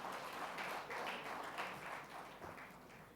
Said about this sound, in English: Can we have a round of applause, ladies and gentlemen?